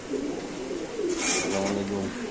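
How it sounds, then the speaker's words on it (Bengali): Iranian golla pigeons coo softly and close by, low throaty murmurs mixed with a faint breathy rustle, brief and without talk. "এটা ইরানি একটা গোল্লা কবুতর"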